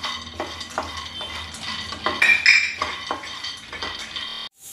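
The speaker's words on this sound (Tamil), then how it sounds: "இப்போ நம்ம இதே கடாயில கொஞ்சம் வேர்க்கடலை வறுத்துக்கலாம்" Peanuts are dry-roasted in a kadai while a spoon repeatedly stirs and scrapes the metal, making a rhythmic clatter of rattling nuts and utensil knocks up close, ending abruptly in silence.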